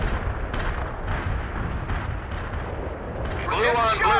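Gunfire and booming artillery in the real-time strategy game World in Conflict rumble continuously, loud and dense, with a sharper burst near the end and radio-style voices talking throughout.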